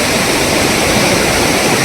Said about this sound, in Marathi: मोठ्या प्रमाणात पाऊस आल्यामुळे बोर्डी नदी ओसांडून वाहत आहे